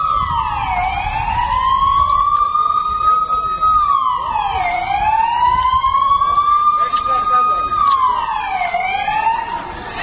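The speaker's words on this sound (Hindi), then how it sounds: "सायरन्स लगातार एक्टिव हो गए।" Emergency sirens in Israel during a Hezbollah drone attack wail loudly and continuously, each slow tone rising and falling in a repeating cycle over a low background rumble.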